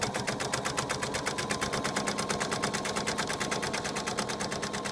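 A sewing machine stitching fabric circular placemats, a steady fast mechanical chatter with an even rhythm that runs without a break, fairly quiet and close.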